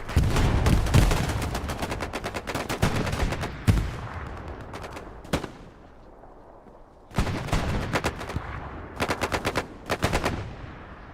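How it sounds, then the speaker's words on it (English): Grenade blast and gunfire in the World War II shooter Hell Let Loose during a competitive match, loud rapid automatic bursts with a sharp explosion, a lull, then more machine-gun volleys. "Looks like grenade is getting thrown onto the airhead."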